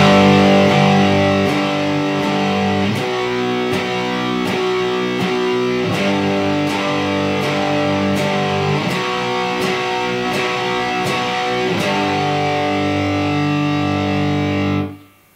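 A distorted electric guitar plays a beginner power-chord exercise, with steady, loud chords changing at an even pace and ringing continuously before cutting off at the end.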